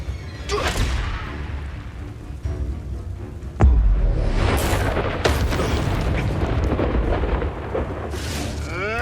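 Confringo fire spell exploding in Hogwarts Legacy, a heavy booming blast with a sharp crack partway through, followed by sustained rumbling and crackling debris at loud, constant level.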